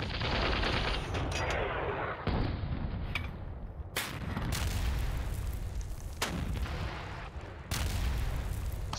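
Machine gun fire and heavy booming shots in the wargame Panzer Battles North Africa 1941, a dense series of sharp bursts and blasts repeating every second or two, loud and unaccompanied by talk.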